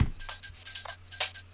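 Short signature drum break for a UK garage beat, choppy bright hits in quick bursts with a pulsing, ducked volume over a low sustained bass tone, close and unaccompanied.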